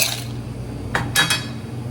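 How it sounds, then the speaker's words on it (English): Ice dropped into a cocktail shaker makes a couple of short, bright clinks close by, with a quiet kitchen background in between. "add a little ice,"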